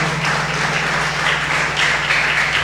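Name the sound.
congregation applauding in church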